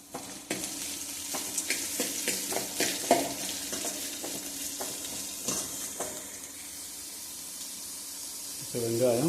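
Onions sautéing in a pan for masala dosa filling, a gentle sizzle broken by clinking stirs of a utensil, close and quiet, with a brief voice near the end.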